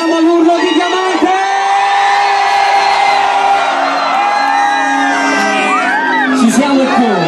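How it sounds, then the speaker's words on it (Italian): Festival crowd at a live DJ and vocal set at the Sky Lanterns Festival in Diamante, Calabria, shouting, whooping and cheering loudly and continuously, with sustained yells swelling toward the end. "Fatemi sentire se ci siamo all'urlo di diamante!"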